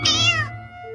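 A cat gives one close, clear meow that rises and then falls and lasts about half a second.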